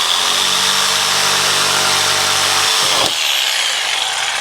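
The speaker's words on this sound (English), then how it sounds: "So then we'll grab the jigsaw." A jigsaw cuts through wood for a woodshed birdsmouth notch. The buzzing is loud, close and continuous, then briefly changes and stops near the end as the cut finishes.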